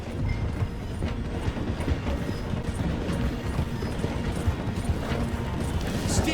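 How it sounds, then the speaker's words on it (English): A steam train in Red Dead Redemption 2 slows through a station with a steady, loud rumble and rhythmic clanking of wheels and cars, plus faint squeals. "The train is slowing down to go through the station."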